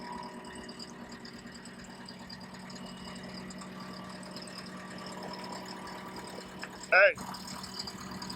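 Skid-steer loader engine chugging and rattling at a steady idle-like drone while the machine drives and turns, with people talking over it and a brief sharp squeal near the end.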